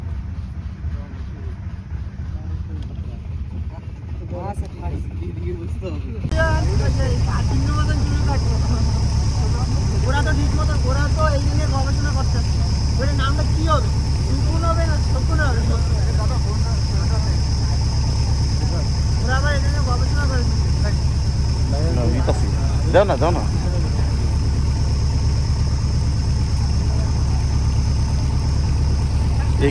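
Boat engine on a Sundarbans river trip, a heavy low steady drone that starts after a quieter opening and runs on unbroken, with people talking over it throughout.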